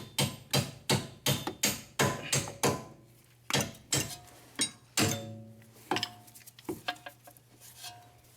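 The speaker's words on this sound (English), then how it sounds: "So we're gonna tap these bolts." Repeated metal-on-metal hammer blows knocking on strut bolts during a Nissan Murano wheel bearing and drive axle job: a quick run of about ten sharp ringing strikes, a brief pause, then scattered slower taps, loud and close with no talk.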